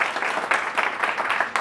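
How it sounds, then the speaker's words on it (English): Audience applause at an evening community event in Vail, Colorado, a dense steady patter of many hands clapping close by, continuing without talk for under two seconds. "You can give them a round of applause if you feel so"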